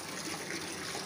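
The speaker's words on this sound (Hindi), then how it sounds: "देखो मैं अभी गाय का पानी भर रहा हूँ" Water pours steadily from a tap or pipe into a vessel being filled for a cow on a small farm, a close, continuous gushing splash with no talk.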